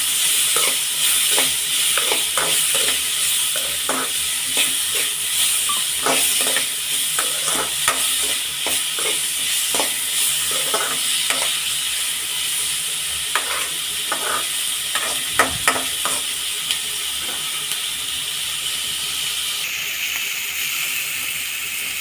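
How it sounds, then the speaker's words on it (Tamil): Ingredients for a cauliflower curry sauté in a pan: a constant close sizzle with a spoon scraping and stirring in repeated strokes. "நல்லா பச்சை வாசனை போகிற அளவுக்கு வதக்கலாம் ஃப்ரெண்ட்ஸ்."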